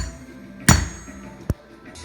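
Hammer driving a seal into a Dana 60 axle during a rebuild: one heavy metallic strike near the start, then a second, lighter blow about a second later, both close and sharp in a quiet workshop.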